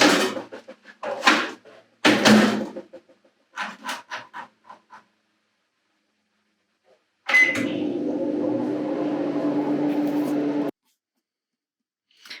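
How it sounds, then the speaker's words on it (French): A microwave oven heats a batch-cooked meal with a steady, even hum for about three seconds, then stops abruptly. Light clattering and tapping come before it. "Je vais mettre ça au micro-ondes et puis on va voir ce que ça donne."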